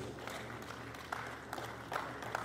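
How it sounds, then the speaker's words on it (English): A gathering at a book presentation breaks into applause, a soft, steady patter of clapping hands heard at a distance, fairly quiet and without a break, with a few sharper claps standing out. "A round of applause for all of them,"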